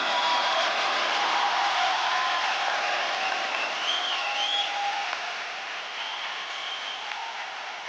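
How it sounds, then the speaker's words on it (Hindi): Dense, steady clapping from a large crowd, sustained throughout and easing slightly toward the end. "जोरदार तालियां स्वागत कीजिए।"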